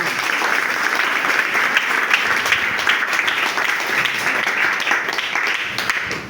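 A crowd applauding at a community justice gathering, with dense, sustained clapping that stays loud and even throughout.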